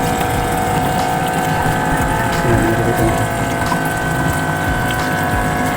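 A pump in a homemade hot and cold water dispenser runs with a steady mechanical drone, loud and close, as someone talks briefly over it.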